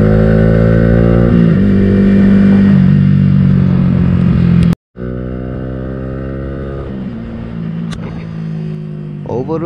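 A Yamaha R15 motorcycle revs hard while riding around a temporary race circuit in Kuching. The engine note climbs and falls loudly and close by, with gear-change dips, a brief cut-out midway, then more revving.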